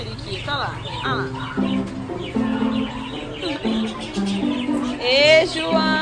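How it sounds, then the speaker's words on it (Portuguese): A pet parakeet in a family home chirps in bright, scattered bursts mixed in with steady conversation, with a clearer, louder run of tweets near the end. "Olha lá o João vendo o periquito."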